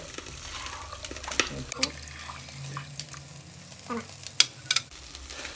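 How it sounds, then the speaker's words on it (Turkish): Ginger-garlic paste being stirred in a hot frying pan while cooking kuska rice, with a soft continuous sizzle and scattered scrapes and clinks of the spoon against the pan, moderately close. "zencefil sarımsak karışımı da böyle ekliyoruz. Şimdi karıştıralım böyle."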